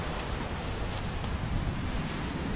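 Strong wind roars steadily against the microphone in a woodland, a dense, continuous buffeting rush with no voices.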